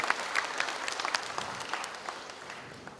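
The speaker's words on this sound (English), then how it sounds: "please give our panelists a big round of applause" An audience applauds panelists at a session, a fairly soft, diffuse patter of many hands clapping with scattered sharper claps, gradually thinning and fading toward the end.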